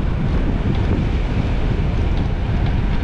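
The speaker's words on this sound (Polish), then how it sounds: "Fajnie wiatr chodzi" Wind rushing past a cyclist coasting downhill on a hot midday ride, a loud, constant roar buffeting the microphone with no break.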